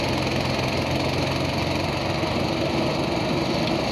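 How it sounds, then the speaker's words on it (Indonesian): Honda GX200 small petrol engine driving a new rice threshing machine, a steady continuous drone with dense rattling mechanical noise, loud and close throughout with no talk. "keseruan menonton mesin perontok padi yang masih baru"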